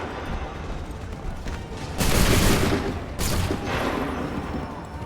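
Musket volley in Assassin's Creed III Remastered: two loud, dense bursts of massed fire roughly a second apart, rolling into a crackling, noisy tail over a steady battlefield din.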